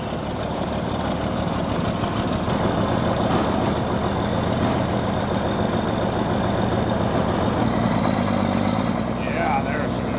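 Caterpillar D6C bulldozer diesel engine idling after a cold start, freshly rebuilt with a new head and turbo; a steady, loud low rumble with rhythmic knocking continues throughout, and voices talk over it.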